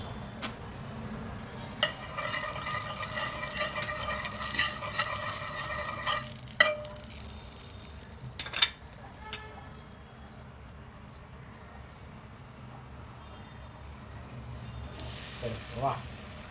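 Ghee sizzles steadily on a hot tawa for a homemade pan pizza, a soft frying hiss running throughout with occasional clinks and scrapes of a utensil against the pan.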